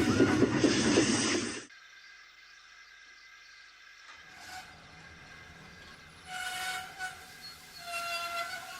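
A train rumbles loudly, then drops to a low hiss, followed by sustained horn-like tones over a steady mechanical drone.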